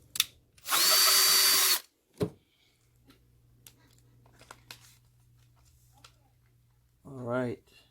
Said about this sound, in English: Just to drill a little pallet hole.